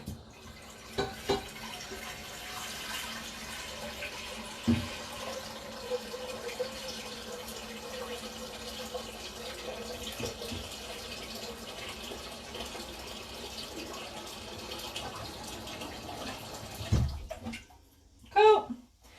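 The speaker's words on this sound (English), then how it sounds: "you're going to take it over to your tap and you're going to put water in there" Tap water runs steadily into a large cooking pot for several seconds, a continuous close rushing that carries on without break, with a few clanks near the end as the flow stops.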